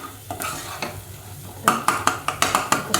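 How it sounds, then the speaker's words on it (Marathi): Masala for spicy misal being sautéed in a pan, a soft sizzle at first, then a run of loud, rhythmic spoon scrapes and clinks against the metal in quick succession. "मसाला चांगला आता परतून झाला"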